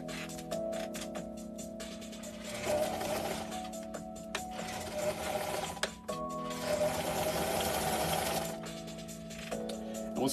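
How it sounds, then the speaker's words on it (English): A sewing machine stitches down fabric in a steady, close mechanical whir with rhythmic needle ticking, running in a few stretches with brief pauses and no talk. "we're going to sew down this 5/8 of an inch"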